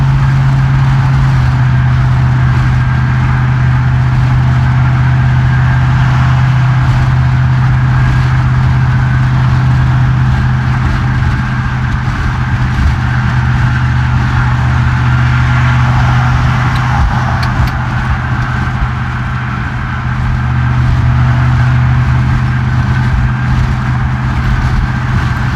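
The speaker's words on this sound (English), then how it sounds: "this is now an ASMR stream with engine noises." A vehicle engine runs steadily throughout, a continuous low hum at a constant level, close and loud, with no voices over it.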